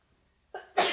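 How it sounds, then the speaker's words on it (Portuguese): A single sharp sneeze near the mic after a moment of quiet, a short intake of breath followed by the burst. "Tô com vontade de espirrar"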